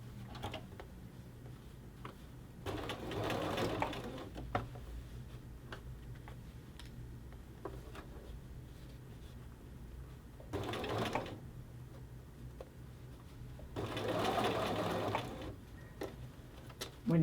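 A sewing machine stitches a men's shirt collar band in three short bursts of rapid needle clatter, with quiet handling ticks and fabric shuffling in the pauses between runs.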